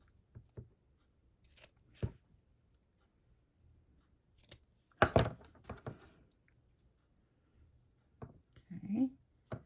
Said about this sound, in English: I'm gonna trim this off.